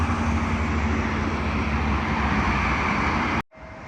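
An airliner arriving on runway 27L at London Heathrow gives a loud, steady broadband engine roar with a low hum, close by. It cuts off sharply near the end, and quieter noise follows.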